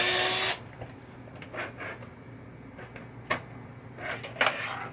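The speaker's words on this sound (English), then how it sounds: "So you need a really long Phillips screwdriver to navigate the drop target assembly to get the screws out." Small metallic clicks and scrapes of a long Phillips screwdriver working screws out of the drop target assembly on a 1976 Bally Night Rider pinball machine, following a brief loud burst, with scattered close handling taps.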